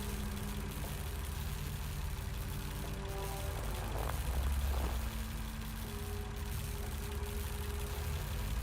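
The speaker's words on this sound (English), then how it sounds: "Judging by the engine noise and the smell, there are diesel generators in this shed." Diesel generators run inside a shed in the video game Lost Horizon, a low continuous engine drone with steady hum tones and a brief swell midway, heard alone without talk.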